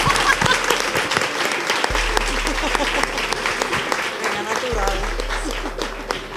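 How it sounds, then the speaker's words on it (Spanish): Audience applause at a sustainable fashion show, a dense, steady clapping from a sizable crowd that fills the whole stretch at an even level. "Un aplauso para Carolina"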